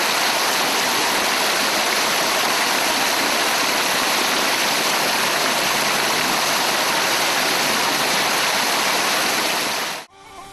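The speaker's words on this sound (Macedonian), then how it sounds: "Ова вода овде кај што е планинска изворка, е чиста и севиќа." Clean mountain spring water near the village of Bukovo outside Bitola rushes past in a steady, close, full stream, the sound holding evenly before cutting off near the end.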